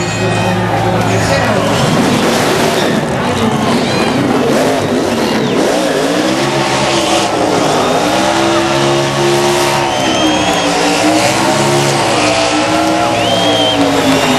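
A NASCAR Nationwide Series race car on the Mexico City road course does a burnout, its engine revving hard with tire squeal and roaring sweeps that rise and fall, loud and continuous under excited commentary and crowd noise.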